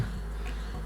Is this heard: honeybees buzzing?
yes